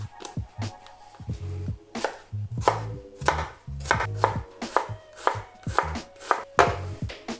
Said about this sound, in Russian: Лук тоже нарезаем маленьким кубиком.